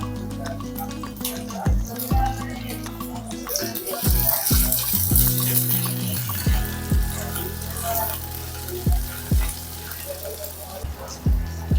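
Green beans and mixed vegetables with ginger frying in a pan for Shirdi khichdi: a steady close sizzle broken by repeated thuds and clunks as pieces drop in and are moved.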